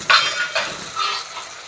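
Onions sautéing in a pan for a Kerala-style fish curry, a steady hiss of frying with a few scraping stirs and light clinks of a utensil against the pan.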